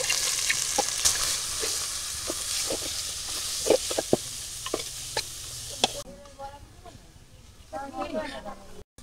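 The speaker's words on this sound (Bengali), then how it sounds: "ডাল ভাজা হয়ে গেছে" Lentils fry in a pan with onion, garlic and green chilli, giving a steady close sizzle broken by stirring scrapes and clinks, then the hiss drops away.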